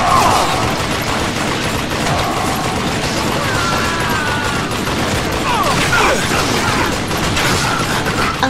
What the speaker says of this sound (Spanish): tomaremos el control de una devastadora ametralladora Gatling